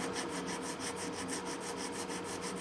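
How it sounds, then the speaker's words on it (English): Sandpaper of 120 grit rubs back and forth over the wooden body of a vintage 1940s Gibson J-45 acoustic guitar, giving an even rhythmic rasping of about four strokes per second, close and alone. "Going on a little 120 grit sandpaper over this area"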